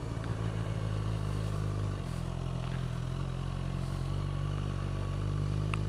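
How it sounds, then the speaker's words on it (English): Ducati Panigale motorcycle engines idle nearby, making a steady low, throbbing rumble with slight surges and a faint clatter underneath, and no voices. "Someone's got a Panigale. 2 Panigales."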